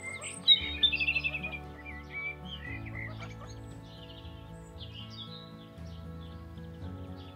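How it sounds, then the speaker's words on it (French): A mother duck and her three newborn ducklings call near the listener: a loud squawk, then a quick run of rhythmic quacks, followed by scattered high peeping, with no one talking. "3 petits canetons, avec la maman qui est là"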